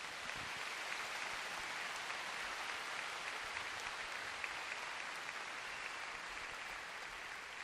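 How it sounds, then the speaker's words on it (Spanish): A large church congregation applauds during a sermon: a dense, continuous wash of clapping that holds steady at an even level for several seconds, with no talking over it. "De nuevo, dar un aplauso al Señor a todos."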